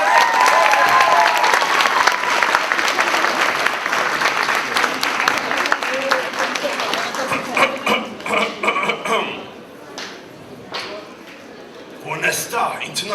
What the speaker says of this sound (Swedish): Så, en stor applåd för Kristina!